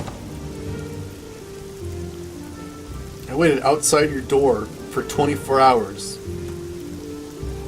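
Steady rain falls in the video game Oblivion, a soft continuous patter filling the background while someone talks over it for several seconds.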